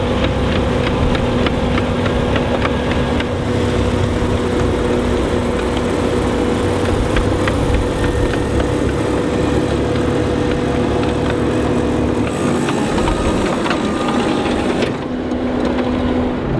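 A skid steer with a snowblower attachment runs loud and steady while pushing packed snow, its engine droning continuously with a brief dip and shift in tone near the end.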